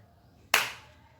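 A single sharp hand clap, close and fairly loud, with a short decaying tail in an otherwise quiet room.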